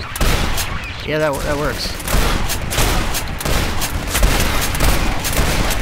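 Shotgun blasts and dense gunfire in the game Legendary, loud and continuous across the span, with a voice speaking briefly over the shooting.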